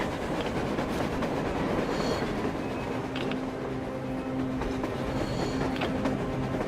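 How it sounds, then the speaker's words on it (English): A train rolls past on the surface in the Metro Exodus video game, a loud continuous rumble with clattering wheels and faint metallic squeals, heard close and alone without voices. "A train! A damn train on the surface!"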